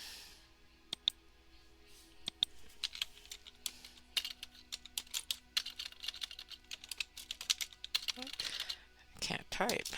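Computer keyboard typing in irregular bursts of quick clicks, close and fairly quiet, with a few short pauses and a faint voice near the end.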